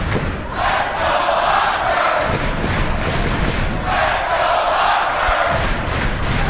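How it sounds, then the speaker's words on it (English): A crowd at the 2017 Mosconi Cup nine-ball pool match roars and stomps, a loud continuous din with heavy floor thuds that surges in two waves, no voices distinct above it. "Listen to the crowd here."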